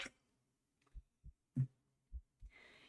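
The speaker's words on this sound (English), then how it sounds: "feel like you can hear your heartbeat." A slow, heavy heartbeat sound effect in a horror video game, about six muffled thumps at uneven spacing over near silence, followed by a rising hiss.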